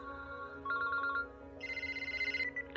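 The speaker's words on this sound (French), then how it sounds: "Le téléphone." Telephone ringing with electronic trilling tones in a science-fiction action film, a warbling higher ring pattern that shifts pitch partway through, steady and fairly clear over a faint low hum.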